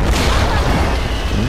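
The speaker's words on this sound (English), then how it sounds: "That explosion, so loud, almost deafening." A massive explosion in the video game Tomb Raider fills the moment with a loud, deep, continuous roaring boom that stays near and overwhelming throughout.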